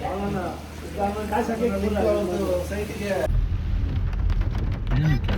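A person talks at first, then a dense, steady hiss of heavy monsoon rain takes over, loud and close.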